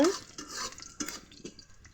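Onions frying in oil in a pan, stirred with a utensil: a couple of seconds of quiet scraping and light sizzle with soft clinks of metal on the pan.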